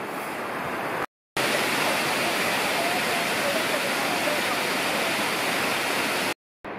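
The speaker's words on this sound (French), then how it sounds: "Je pense qu'elle doit couler pas trop mal la cascade là." The cascade des Tuves waterfall roars as a steady, broad rush of falling water, loud and close, with a couple of abrupt cuts.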